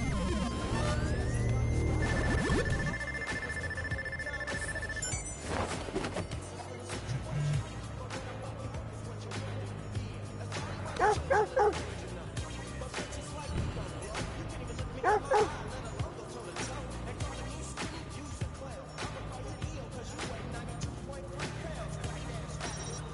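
Dog barking, yipping and whimpering in the video game Watch Dogs 2, sharp barks now and then amid a busy, constant game soundscape of noise and effects, with some talking.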